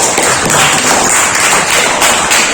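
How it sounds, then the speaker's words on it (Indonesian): Loud, dense hand clapping from a classroom of students, a close, steady patter of many overlapping claps lasting throughout with no voices standing out. "Coba kasih tepuk tangan."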